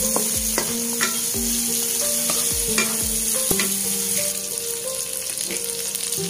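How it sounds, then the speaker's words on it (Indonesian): Garlic and shallots sizzle steadily in hot oil in a pan for a red snapper sweet and sour tomato sauce dish, with repeated scraping strokes of a spatula stirring them. "Bawang putih, bawang merah itu menjadi kekuningan."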